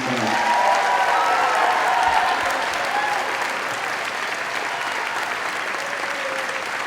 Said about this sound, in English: And please, one last round of applause for them.